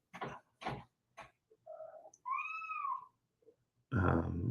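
A female cat in heat gives drawn-out, wavering meows, one rising and falling cry following a shorter call, close by indoors, with a person speaking before and after.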